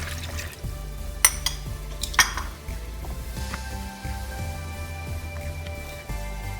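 Water splashes and trickles into a pot of Thai green fish curry with coconut milk, with a couple of sharp metallic clinks of cookware close by; quiet, no talking.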